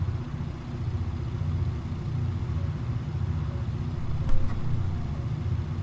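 Bomber plane engines in the Bomber Crew game drone steadily and low, with one engine shut down and three running, a constant rumbling hum throughout.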